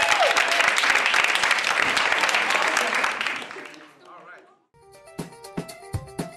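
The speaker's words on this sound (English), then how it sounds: "Can we give our surgical team a big round of applause?" A big round of applause for a surgical team at a hospital operating-room-in-schools programme event in Brooklyn: dense, loud clapping for about three and a half seconds, then a fade into quieter music.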